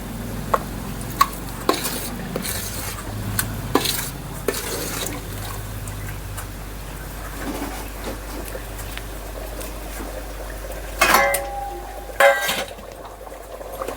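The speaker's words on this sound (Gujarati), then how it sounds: "હું અત્યારે મેથીના તળું છું અને તેલ ઝાઝું નાખીને આમાં તળું છું" Fenugreek seeds frying in plenty of oil in a pan for a sour pickle, a soft continuous sizzle broken by stirring scrapes and metal clinks against the pan, close by with no talk.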